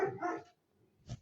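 A dog barks outdoors, a couple of short, fairly loud barks with a brief quiet gap between them, the last one sharp and close.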